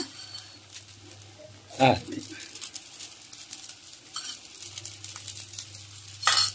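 Raw banana dosas fry in oil on a pan with a steady, close sizzle throughout, broken by a sharp utensil clatter early on and another at the end, over a low background hum, with a brief spoken word.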